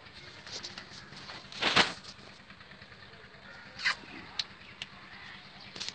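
Pigeons coo at close range while being fed, with a few soft bursts of calls and wing or feeding noises over steady background hum; no talking.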